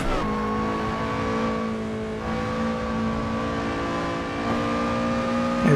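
Lotus Exige Scura engine in the racing game Assetto Corsa on the Nordschleife, a steady loud engine drone with strong harmonic tones holding near constant pitch, a brief dip and rise in revs near the end, no talk.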